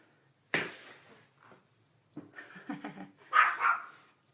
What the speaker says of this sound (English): if you hear my dog barking, there's an airplane. Made him real mad.